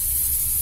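A pressure cooker on the stove lets off steam through its whistle as a loud, continuous, close hiss that holds steady for the whole moment, with no talking.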